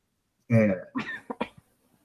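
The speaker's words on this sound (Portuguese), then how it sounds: "Não, foi tosse." A sharp cough bursts out close by, followed by a few shorter rough throat-clearing coughs, then quiet.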